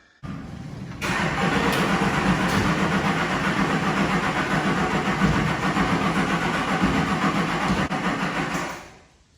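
An LMM Duramax diesel truck engine turns over sluggishly on a weak battery, a steady, loud, close grinding crank that holds for several seconds before winding down.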